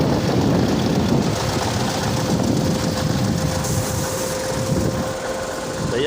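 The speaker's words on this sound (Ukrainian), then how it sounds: "Трактор потужний, тягне хорошо, мотор мал стоїть у нас, стартером заводиться" A T-150 crawler tractor's heavy engine rumbles continuously and loudly close by while uprooting stumps, a dense, steady mechanical drone with no pauses.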